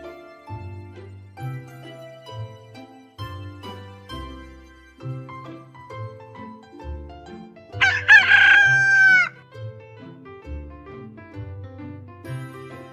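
A rooster crows once in the middle, loud and clear, rising above a steady rhythmic music track that keeps playing underneath throughout.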